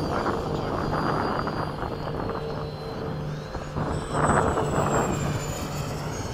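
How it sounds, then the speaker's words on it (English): Remote-controlled model biplanes fly in formation over a runway, their engines making a steady, continuous drone with a thin high whine that swells louder toward the end as they pass close. "Yep, biplanes in formation."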